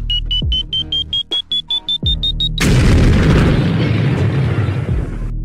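A falling bomb gives a rising whistle in repeated pulses before a loud, rumbling explosion. The blast's roar then fades out across the rest of the sound.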